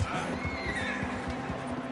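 A horse whinnies in Red Dead Redemption 2, a loud drawn-out neigh over rhythmic clip-clopping hooves, close by and continuing for about two seconds.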